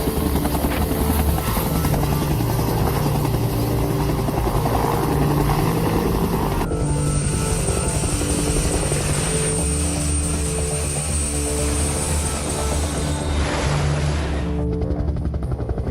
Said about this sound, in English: At one time, I counted 26 Hueys circling the ship.